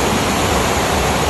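A river flows steadily past a farm campsite on a calm, rainless night, a dense, continuous broadband rush of water with no breaks, fairly loud and close, and no voices over it.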